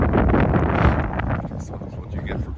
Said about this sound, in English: It's yeah, it's rather windy